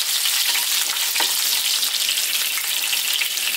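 Fresh curry leaves sizzle and fry in hot oil in a pan while making saag aloo, a steady loud crackling hiss throughout with no talking.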